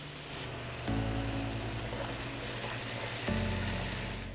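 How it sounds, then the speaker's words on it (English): Steady, hissing sizzle of food frying in a hot pan, close and continuous, with a low hum underneath and no talking. "you wanna make sure that you hear that sizzle so that you know that it's gonna cook"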